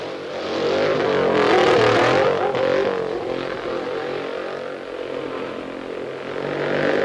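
A racing motorcycle at the 1950 Isle of Man TT roars past on the mountain course, its engine note loud and sustained, swelling and fading slightly, with no talk over it.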